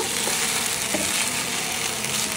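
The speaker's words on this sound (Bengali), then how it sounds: "ম্যাগিটা একটু ফ্রাই করছি।" Maggi noodles fry in a pan with a continuous, even hiss and crackle of sizzling oil, close and steady throughout.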